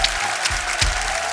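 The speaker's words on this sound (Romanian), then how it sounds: "Aplauze!" Studio audience applause on a Romanian TV comedy show, a steady dense clatter of clapping that swells briefly twice and holds at a moderate level throughout.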